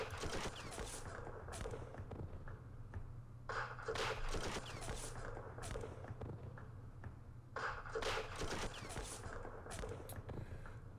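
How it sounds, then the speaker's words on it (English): Gunfire in a firefight in the Vietnam wargame Campaign Series Vietnam: fairly faint, repeated bursts of crackling shots arriving in loose clusters over a steady low background hum. "We are firing back. It is a firefight."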